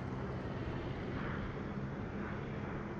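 Torpedo bombers droning overhead in World of Warships, a steady dense aircraft engine roar that stays constant and fairly loud across the whole stretch.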